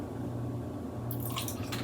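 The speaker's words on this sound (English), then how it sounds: "I'm going to put a little splash of vanilla." A small splash of vanilla extract is poured into pumpkin cookie batter, heard as a quiet, brief liquid drip and squish after a moment of near silence.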